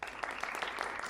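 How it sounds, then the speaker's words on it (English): Theater audience at a fringe festival show clapping to vote for a scene, a brief burst of moderate applause from a room full of people. "who would like to see scene number one by sound of applause?"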